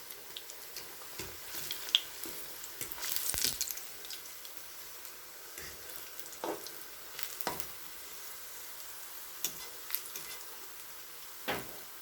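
Akara fritters made from bean flour fry gently in a pan on low heat, giving a soft, continuous sizzle punctuated by scattered small pops and crackles, with no one speaking.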